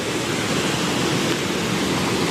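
Floodwater after heavy rain in Junagadh rushes past in a steady, loud, unbroken roar of churning water, close by and with no pauses.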